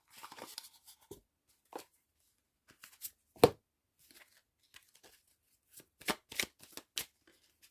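A deck of oracle cards is shuffled during a card reading, giving soft riffling and flicking bursts in scattered bunches, close but quiet against near silence, with no speech.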